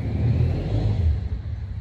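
A motor engine revs steadily for about two seconds, loud and close, with a low rumbling drone that stays continuous throughout and never dies away, with no voices audible over it.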